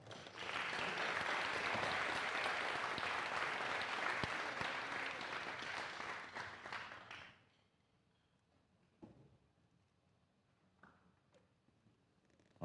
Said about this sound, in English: And how about one more round of applause for all of our senior class?